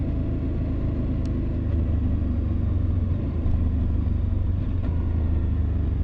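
Riding a Husqvarna Norden 901 motorcycle produces a steady, close, low engine rumble with wind noise that stays even throughout, with no speech over it.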